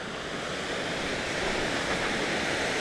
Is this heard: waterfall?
yes